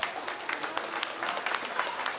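A small audience at a live dinosaur show claps in a brief, moderately loud burst of overlapping hand claps.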